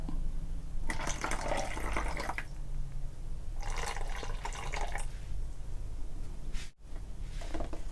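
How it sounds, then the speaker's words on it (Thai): Soda water poured into watermelon juice in a glass, heard as several short splashing pours separated by pauses, close and moderately quiet. "ต่อไปนะครับก็เทน้ำโซดาลงไปนิดหน่อยนะครับ เพื่อเจือจางนะครับ"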